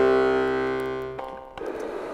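Accordion left-hand C bass button sounding a single sustained reedy note, loud and close, that fades after about a second and gives way to faint handling noise.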